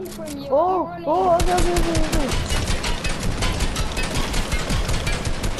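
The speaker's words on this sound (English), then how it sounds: "I shot him! He got 40 damage." Rapid gunfire in a Fortnite match, a dense burst of repeated shots running nearly the whole time, loud and close, after a short whooshing game effect with voices talking over it.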